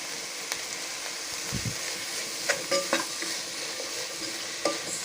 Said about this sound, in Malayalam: സവാളയൊക്കെ ഒന്ന് നല്ലപോലെ മിക്സ് ചെയ്തെടുത്ത്